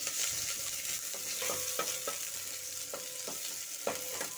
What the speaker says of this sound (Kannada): 1 ಈರುಳ್ಳಿನ ಕಟ್ ಮಾಡಿ ಹಾಕ್ಕೊಂಡು ಅದನ್ನು ನೀಟಾಗಿ ಫ್ರೈ ಮಾಡ್ಕೊತಾ ಇದ್ದೀನಿ